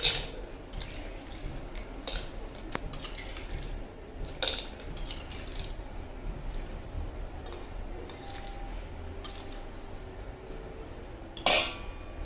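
Lemon rice mixed in a pot with a tempering of peanuts, lentils and dried red chillies: soft, wet squishing and occasional metal spoon clinks against the pot, with a few sharp scrapes, fairly close and steady.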